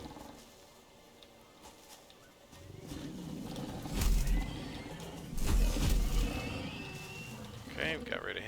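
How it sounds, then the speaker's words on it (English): A pig-like beast creature in the game Satisfactory lets out loud, rough roaring grunts and snorts in a couple of bursts over ambient game noise, with a player speaking over it. "I hear a pig beast."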